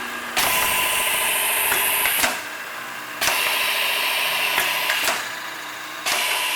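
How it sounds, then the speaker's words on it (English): An All-Fill twin-head powder filler runs with a hopper agitator turning, its auger drive pulsing in loud, regular bursts of about two seconds each over a steady machine drone. "the hopper agitator is running, as well as you'll see the central shaft there is the auger drive pulsing away"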